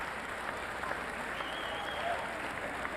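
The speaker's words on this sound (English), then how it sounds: "gets a nice round of applause from the crowd" Spectators at a 1995 PCAC basketball all-star game applaud steadily after a dunk, a dense, even wash of clapping filling the hall from start to finish.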